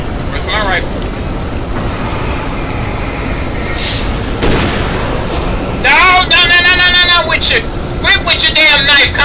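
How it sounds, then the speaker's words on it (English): Grenade blasts in the video game Alan Wake, loud and rumbling, with a dense burst of debris and crackle after the first few seconds, all under continuous noisy gameplay. "You get a boom, and you get a boom, and you get a boom"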